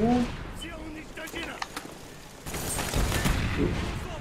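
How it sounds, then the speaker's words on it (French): Rapid bursts of M16 gunfire in the video game Call of Duty Black Ops 2, with dense crackling volleys building louder in the second half, mixed with game voices. "Le gars il se prend 3 rafales de M16"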